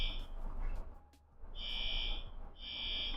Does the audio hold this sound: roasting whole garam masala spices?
no